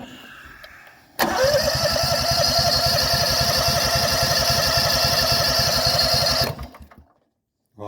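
A Predator 8750-watt Harbor Freight generator is cranked with a starter motor in a steady rhythmic chugging run lasting about five seconds, loud and close; it then stops and falls silent, with no speech.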